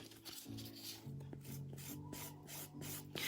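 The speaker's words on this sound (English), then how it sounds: "give this a quick buff over with the 180 grit side" Freshly applied gel nail buffed with the 180 grit side of a nail file, quiet, close scratchy rubbing strokes repeating in an irregular rhythm.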